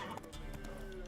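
Roach the horse galloping in a video game, rapid close hoofbeats under a voice speaking over them.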